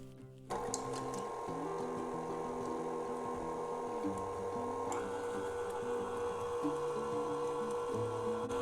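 An electric mixer whirs steadily through vegan chocolate chip buckwheat waffle batter, a constant close motor hum with shifting pitch and faint scraping.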